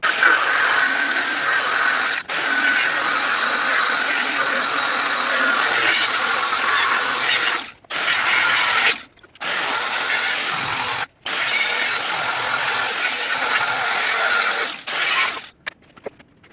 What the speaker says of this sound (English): Now I just need to cut a little section of this steel here